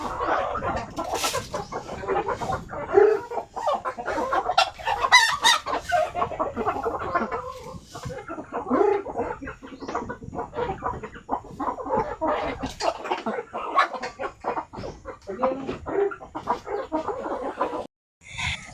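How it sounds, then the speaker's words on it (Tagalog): Chickens cluck busily and continuously, close by, with a few louder squawks mixed into the steady farmyard chatter. "Namahog na si Riri sa manok guys"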